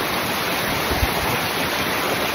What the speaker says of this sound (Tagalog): Ang agos ng tubig. Kasi natutunaw na yung mga snow dito.